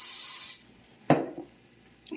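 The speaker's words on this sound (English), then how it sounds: "Give a little spray." A short hiss of butter spray bursts out, then a pause and a quick scrape or clatter nearby, with a faint second spray near the end.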